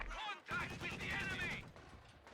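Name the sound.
DShK heavy machine gun firing in Company of Heroes 2 video game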